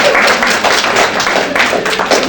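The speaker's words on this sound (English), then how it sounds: "I need you to clap." An audience clapping at a nonprofit workforce event in Detroit, a dense, steady patter of many hands that carries loudly through the whole stretch.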